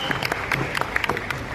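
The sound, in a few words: loud audience applause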